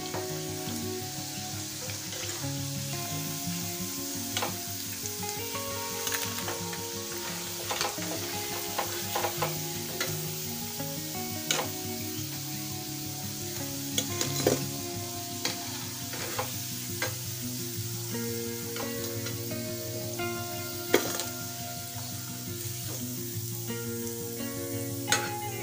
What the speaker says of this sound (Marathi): हे पहा, आपले वडे छानपैकी सोनेरी रंगाचे तळून झालेले आहेत